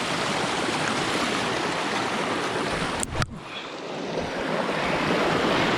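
Rushing water of the Little Colorado River near its confluence in the Grand Canyon, a steady broadband roar close by, with a brief thump of handling noise midway.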